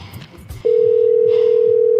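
A telephone dial tone sounds as a loud, steady, unbroken hum after a short stretch of low background noise and faint murmur at the start.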